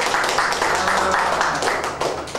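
A crowd at a marketing and business presentation applauds with steady, dense clapping that holds its energy throughout, loud and continuous with no pauses.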